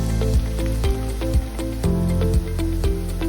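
Roughly chopped ginger and garlic crackle and sizzle in hot oil in a pan for butter chicken, with a steady fry broken by sharp clinks of a spoon against the pan and no talking.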